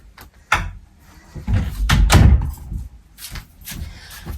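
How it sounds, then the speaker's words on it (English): A door is pulled shut indoors, a few knocks and thuds of the door and latch sounding close by, with rustling and movement around them. "I'm just gonna close my door"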